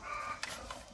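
A native free-range hen on a rural wood-fire farm gives a couple of faint, brief clucks over quiet background noise.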